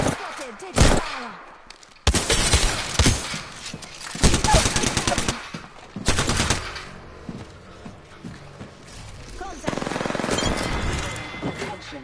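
Video game shooter gunfire comes in loud, close bursts of rapid automatic fire separated by brief lulls, with a continuous mix of game effects underneath.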